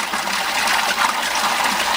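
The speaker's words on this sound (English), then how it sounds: "That's a lot of water coming through there for 70 watt. This pump's remarkable." Water from a 70 watt pump gushes steadily into a sieve pre-filter, a loud, continuous broadband rush with no pauses.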